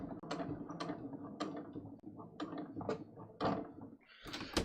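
A sewing machine stitches across the bottom of a garment neckline, its needle running in short bursts with rhythmic mechanical clatter and pauses between runs, close and moderately loud.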